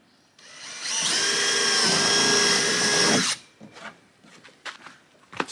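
A power drill driving screws through a tarp at a canoe canopy build, one sustained whirring run of about two and a half seconds, followed by scattered clicks and handling knocks.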